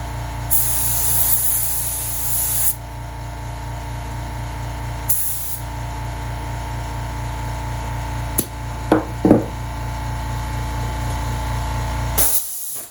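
Bursts of spray coating hiss onto an RC dragon canopy mold, three long steady sprays separated by pauses, with a few sharp knocks and clatters in between.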